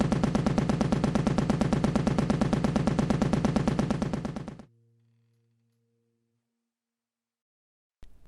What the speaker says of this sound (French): Ils pointent leurs fusils sur nous et tirent.